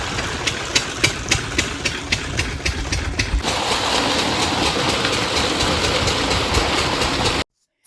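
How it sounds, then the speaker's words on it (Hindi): An irrigation pump engine runs steadily in a farm field beside cabbage and garlic plots, its start marked by a quick series of rhythmic knocks before it settles into a loud, continuous chugging drone that cuts off abruptly near the end. "और यहाँ पर अब इंजन स्टार्ट हो गया है।"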